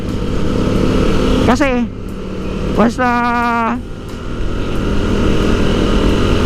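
A motorcycle engine revs twice in rising sweeps, loud and close, over steady engine rumble while someone talks.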